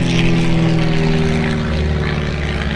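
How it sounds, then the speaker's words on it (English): A twin-engine propeller airplane flies close by on a resort island, its loud, steady engine drone holding an even buzzing tone throughout, with no talking. "Behind me, well, one, there's an amazing plane."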